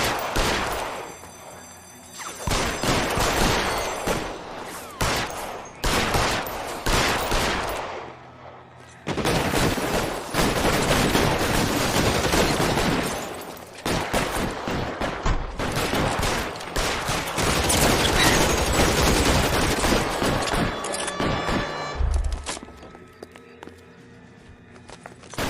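A shootout with heavy, continuous gunfire. Rapid bursts and overlapping volleys run loud and close almost throughout, broken by brief pauses, with a few raised voices in the mix.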